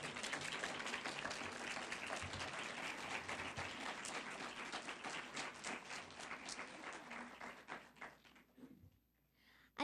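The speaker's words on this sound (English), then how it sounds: "Another big round of applause for our four finalists." Sustained audience applause at a 4-H public speaking contest, dense clapping from a crowd that holds steady for about eight seconds, then thins out and fades near the end.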